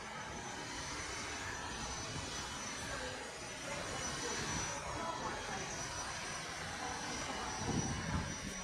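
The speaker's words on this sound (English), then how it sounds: "Yeah, the green airplane there." Aircraft engines at Lanzarote airport produce a steady, fairly distant roar with broadband rumble that swells slightly near the end, as a person talks softly over it.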